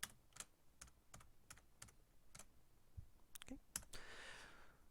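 Quiet, irregular keystrokes on a computer keyboard while C++ code is written in Visual Studio, a scattered run of distinct clicks and taps close to the mic with a soft breath near the end.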